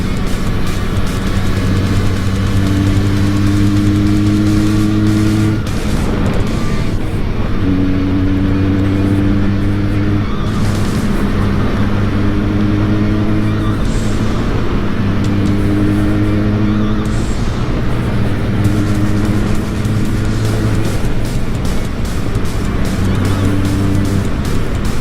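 A Benelli 302C sport motorcycle engine climbs through the gears repeatedly riding uphill, loud rising whines with brief dips at each shift, sustained over a long ride.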